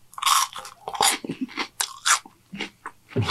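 Crunchy Burger King cereal is chewed right at the mic in a quick, irregular series of loud crisp crunches and bites separated by brief pauses.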